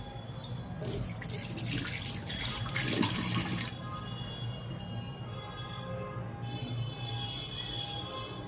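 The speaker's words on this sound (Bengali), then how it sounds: "হাতটা ধুয়ে নেই" Hands are washed under a running tap, with a gushing splash that rises for a few seconds and then settles into a quieter trickle and drips, faint and close.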